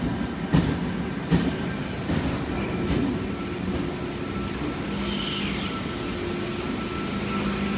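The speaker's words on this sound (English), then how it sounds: "This train consists of a DKT car" A passenger train of DKT and DKM series cars rumbles past nearby with rhythmic clickety-clack wheel thumps and a brief high squeal midway, at Springwood.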